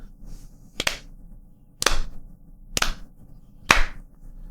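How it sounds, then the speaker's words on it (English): Podcast hosts give a slow clap: four sharp, widely spaced hand claps about one second apart, close and loud, with no talking. "I think we give ourselves a slow clap."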